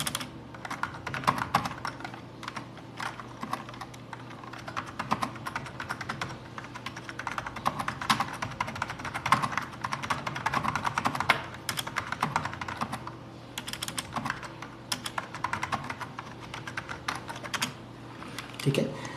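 Fast typing on a computer keyboard, with dense, irregular clicky keystrokes and short pauses, heard close and fairly quiet over a low background hum, with no talk.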